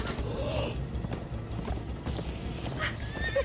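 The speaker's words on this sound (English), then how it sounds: "Come on, horses! Whatever you do, don't look back." Horses in the Minecraft Story Mode video game gallop with steady clip-clopping hooves and whinny loudly in bursts, a neigh near the end rising over the pounding run.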